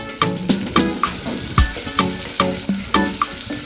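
Tomatoes sizzle with softened onions in a hot pan while a spoon scrapes through them in quick, regular strokes, a steady frying hiss underneath.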